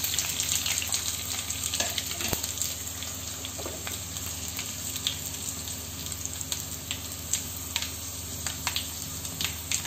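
Dried red chillies and curry leaves sizzle and crackle in hot oil for tomato dal, a steady close frying hiss with scattered pops and a spoon stirring, no talk.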